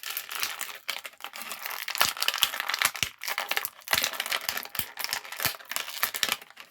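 Star Wars Retro Collection NED-B droid action figure being pried out of its plastic blister pack, close crinkling, cracking and snapping of plastic in irregular bursts with sharp clicks and brief pauses.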